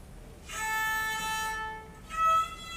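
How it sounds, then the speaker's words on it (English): A stringless DIY violin played through a computer and surrogate soundboard gives sustained bowed-like tones, one long note followed by a shorter second note after a brief dip, moderately loud with no talk. "DIY violin, just playing on its own."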